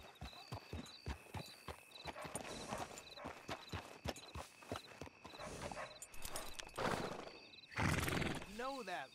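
Horse hooves clip-clop in a steady walking rhythm in Red Dead Redemption 2, close and distinct, followed by a brief neigh near the end.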